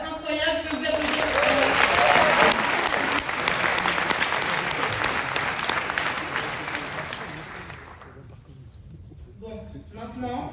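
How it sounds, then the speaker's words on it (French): Festival audience applauding at the Gérardmer fantastic film festival awards ceremony, a loud sustained wave of clapping that slowly fades out, followed by a voice speaking. "je peux vous applaudir"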